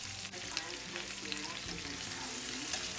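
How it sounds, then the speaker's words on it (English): Onions, garlic and greens sauté in a pan, a continuous quiet sizzle with occasional light stirring clicks and scrapes. "I'm going to saute the onions, throw in the rest of that garlic"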